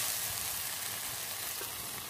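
Egg curry masala with cumin and garam masala powder frying in a pan, a soft, steady sizzle at moderate level with faint stirring, brief and without voices.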